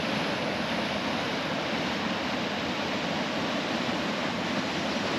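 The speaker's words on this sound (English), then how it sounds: "I can hear the waterfall." A small waterfall pours through a canyon on the road to Atlin, British Columbia, giving a steady, dense rush of water that stays even and unbroken throughout.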